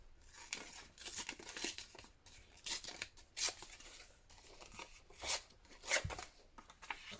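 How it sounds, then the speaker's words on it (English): A leftover piece of paper for a junk journal is torn by hand in several short ripping strokes, close and crisp, with crinkling handling noises between the tears. "So I'm just going to tear this."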